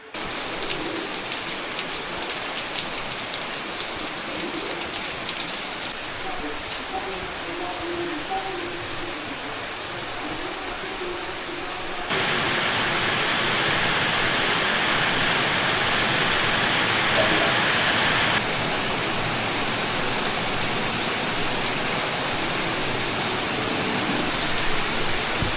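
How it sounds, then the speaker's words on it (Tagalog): Heavy rain falls steadily and continuously, a dense, loud hiss that swells louder partway through and never lets up. "Wala pa rin tigil ang ulan, tuloy-tuloy pa rin mga kapanalig."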